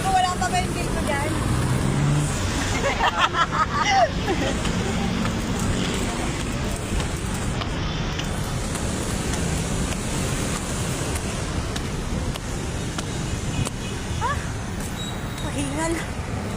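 Steady street traffic rumbles loudly around people walking on a busy road, a continuous wash of engine and road noise with voices talking over it.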